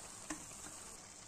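Grated paneer is stirred into a sizzling soybean mixture in a pan, a soft steady frying hiss with one sharp scrape of the spoon near the start.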